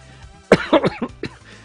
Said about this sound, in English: I'll do my best to stop coughing during the event